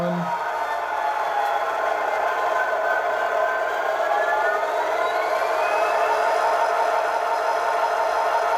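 An Athearn SD80MAC model diesel locomotive with Tsunami 2 sound runs in reverse, its synthesized engine drone holding steady and loud while a tonal whine slowly rises in pitch.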